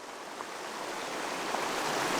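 The Duchesne River flows as a steady, broad rush of water along a roadside spot in the mountains, a continuous hiss that swells slightly louder over a couple of seconds with no talking.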